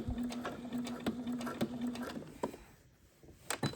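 A sewing machine stitches across a fabric pleat in quick rapid bursts with a brief backstitch, its motor whirring and needle clattering close up, pausing after a few seconds before a final short burst.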